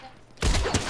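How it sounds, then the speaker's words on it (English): A sudden burst of rapid gunfire erupts in a video game after a short quiet moment, loud and dense for the rest of the brief clip. "I'm just now seeing some of the gunfire."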